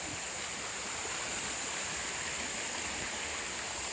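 River water flows steadily past a cleared riverbank beside a cornfield, a continuous broadband rush that stays even and moderately loud throughout, with no speech.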